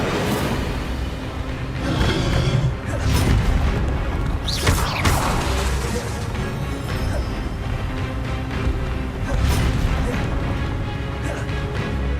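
Hogwarts Legacy magical combat, with the Incendio fire spell being cast, fills the scene with loud, dense bursts, booming impacts, crashes and whooshes layered over one another without a break.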